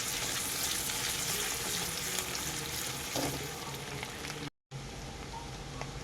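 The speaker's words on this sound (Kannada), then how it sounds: "ಈಗ 1 ಟೇಬಲ್ ಸ್ಪೂನಷ್ಟು ಸಣ್ಣದಾಗಿ ಚಾಪ್ ಮಾಡಿರೋ ಶುಂಠಿನ ಹಾಕ್ಕೊಂಡಿದ್ದೀನಿ. ಇದನ್ನು ಸಹ ನಮಗೆ ಫ್ರೈ ಆಗಬೇಕು." Finely chopped ginger fries in a hot pan for a fried rice dish, giving a dense, steady close sizzle with occasional stirring scrapes and a brief silent gap near the end.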